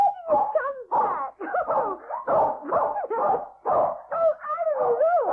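A dog in a radio audio play barks and yelps in a rapid, excited series of close, loud woofs with whiny tones, continuous across the short stretch with no talk.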